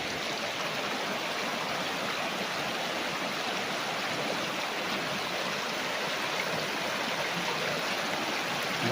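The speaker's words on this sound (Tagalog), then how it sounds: "Lakas ng agos mga kapraps." Strong river current rushing steadily past a farm lot in Majayjay, Laguna, a loud, continuous broadband wash of fast water that stays constant and close, with no voices over it.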